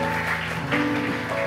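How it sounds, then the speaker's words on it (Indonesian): A church congregation claps during a worship service, a lively stretch of applause mixed with sustained music tones throughout, fairly loud and even. "Sekali lagi kita beri tepuk tangan bagi Allah kita."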